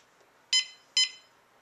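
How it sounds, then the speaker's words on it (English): Caregiver sensor pad alarm from a cordless patient monitoring system, sounding two short, bright electronic beeps about half a second apart, moderately loud against a quiet background. "Releasing pressure from the pad will set off the alarm."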